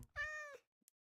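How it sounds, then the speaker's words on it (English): A Minecraft cat lets out a single clear, close meow with a bright harmonic tone, then a couple of faint clicks before another sound starts at the end. "I heard a cat."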